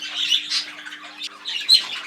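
Newly fledged young birds squawk inside a shed, giving several harsh, scratchy calls in short irregular bursts close by, with a faint steady hum underneath.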